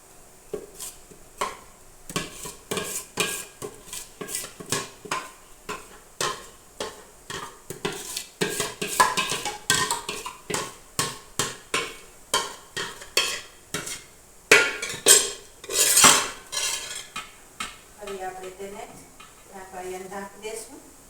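A greased metal plate is set into a dhokla steamer and batter is poured in, with scattered clinks and scraping knocks from the utensils in a kitchen, while someone talks throughout.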